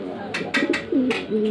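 Several Madrasi pigeons coo in a loft, rolling coos in a quick run of close calls with sharp clicks or wing taps among them, no talking heard.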